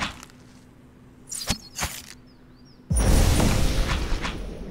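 An explosion in the Pillars of Eternity fantasy role-playing game: a few sharp cracks and snaps lead into a sudden loud burst that roars on as a dense, rumbling blast.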